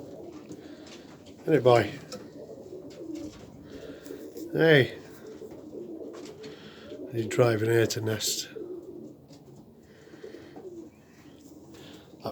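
Pigeons coo inside a young bird loft, three bursts of throaty cooing spaced a few seconds apart, close and fairly loud, while someone talks quietly between them.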